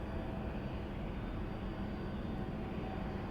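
A Southwest airliner takes off from a San Diego runway, producing a loud, steady, broad roar of jet engines that holds at the same level throughout, with no voices.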